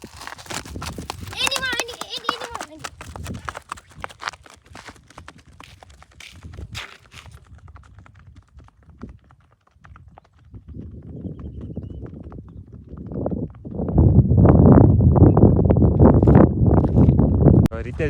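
A mare named Sheetal is ridden outdoors. Her hooves clip-clop in a quick, uneven rhythm, at times close and loud, with people talking and gusts of wind on the microphone.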